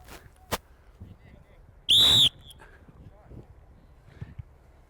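At goalkeeper training, a coach gives one sharp, loud blast on a whistle lasting about a third of a second. Faint ambient noise and light thumps from the field come before and after it.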